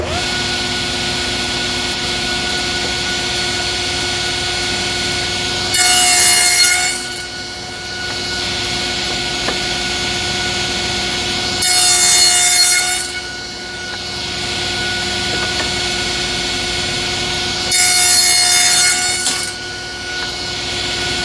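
A handsaw or power saw cuts wooden tenons in a jig for cabinet door mortise-and-tenon joints, three separate bursts of cutting about six seconds apart over a steady background hum.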